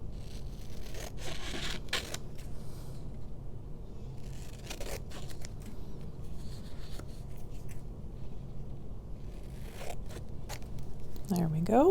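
Scissors trim paper to shape for a junk journal, giving a few crisp snips and rustles spread across quiet stretches, with one sharp burst near the end.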